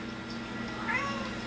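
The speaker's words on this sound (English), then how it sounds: "How you doing, kitty cat?" A pet cat meows once in a short, fairly faint call indoors, with a steady background hum.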